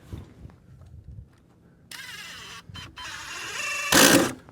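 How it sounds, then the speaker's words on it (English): Power driver whirring in bursts as screws drive a plate down onto a dovetail jig for rafters, the last burst loudest, after quieter handling noises. "Screw my plate down."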